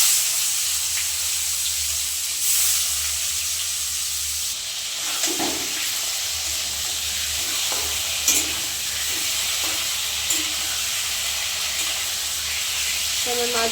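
Eel fish (bam) frying in smoking-hot oil in a home kitchen, a steady bright sizzle and hiss running throughout, with occasional soft clatter of a utensil turning the pieces.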